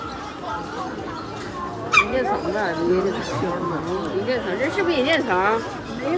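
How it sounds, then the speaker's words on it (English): Dogs at a market whimper and yip in high, wavering cries, with a few short barks mixed in among nearby chatter and someone talking throughout. "there's a lot of dogs over here"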